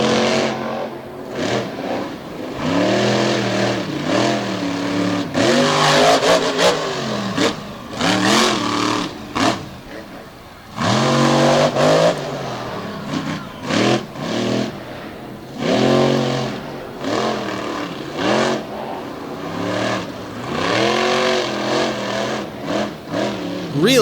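Monster truck engine at Lake Erie Speedway roaring and revving hard in repeated surges, loud and close, with crowd and arena noise underneath and a commentator talking over it.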